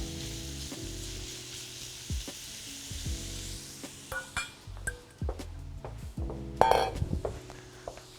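Food sizzles in a pan while a utensil stirs and scrapes in irregular strokes, with a few light clinks over soft background music.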